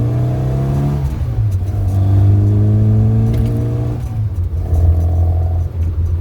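A classic Mini, a restored daily-driven old car, revs up close and loud in several rising and falling pulls, its engine note throaty and barky, heard alone without talk.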